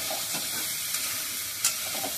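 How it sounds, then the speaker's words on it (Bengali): A bottle gourd curry with lentil dumplings being stirred in a pan, a steady soft sizzle and scraping under a faint hiss, with one brief clink near the end and no voices. "লাউগুলো একটু নাড়ে চেড়ে তারপরে জল ঢেলে নেবো"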